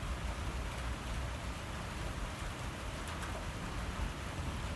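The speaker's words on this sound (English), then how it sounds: "we're starting to feel the rain a little bit more right now" Steady outdoor rain falling in a dense, even hiss that stays constant throughout, fairly close, with no voices.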